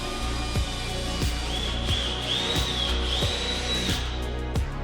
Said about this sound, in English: take a 6 millimeters drill and make a hole.